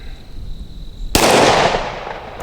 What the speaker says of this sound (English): So let's do a little bit more shooting here.